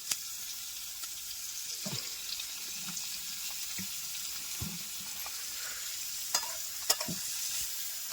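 Onion frying in oil in a pan, a steady soft sizzle running throughout with occasional stirring scrapes and clinks.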